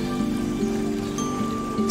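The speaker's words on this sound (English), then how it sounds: "That's the sound of the extra water making its way from the green roof to the wetlands" A small trickle of excess water runs off a green roof into wetlands beside an outdoor amphitheater lawn, a steady close patter and flow with no voices.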